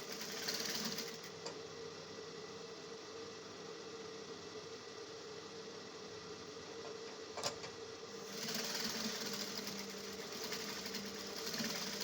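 A sewing machine runs steadily, stitching the side seams of a sequined bridal mermaid dress with a crinoline hem, a continuous mid-level hum with a brief click near the middle and a slight rise in intensity toward the end.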